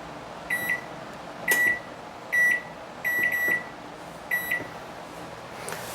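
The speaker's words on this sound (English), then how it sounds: "So I'm going to set my timer." An oven timer being set at home, giving a run of short electronic beeps, about six quick bleeps spaced unevenly over a few seconds, close and clear against a low room hum.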